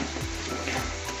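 Spring onions are tossed and fried in a hot pan, giving a steady close sizzle with soft scraping stir strokes at a fairly even rhythm.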